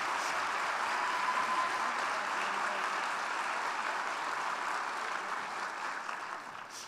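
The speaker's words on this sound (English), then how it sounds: "Round of applause." Sustained applause from a large graduation ceremony crowd honoring university faculty, a dense, even wash of clapping that holds steady throughout and tapers slightly near the end.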